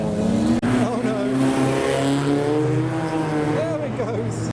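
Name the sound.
modified car accelerating away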